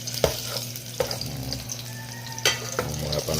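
Garlic and onion sautéing in a pan as the base for misua with sardines, a steady close sizzle broken by a few sharp clicks and stirring scrapes, with no talking.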